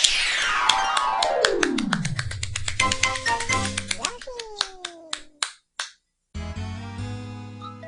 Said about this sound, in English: Hooray for the round of applause.